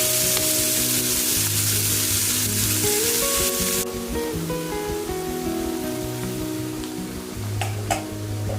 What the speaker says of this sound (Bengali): এবার একসাথে কেটে রাখা সবজি সমেত পুঁইশাকগুলো আস্তে আস্তে দিয়ে দেব।